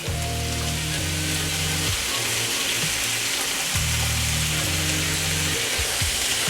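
Yellow squash sizzles loudly in a hot pan alongside zucchini for vegan fried rice, a dense, steady crackling hiss close to the mic with low hum in the background and no speech.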